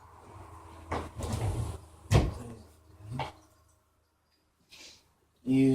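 A closet door is opened indoors, with a few soft knocks, clicks and rustling bursts close by, then a quiet pause before a final louder clatter, alongside some quiet speaking.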